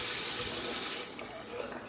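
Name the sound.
hot water running from a tap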